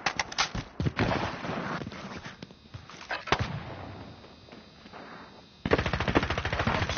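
Video game gunfire in an online shooter, rapid automatic bursts of shots in short clusters, a longer sustained burst at the end, fairly loud and close with no voices.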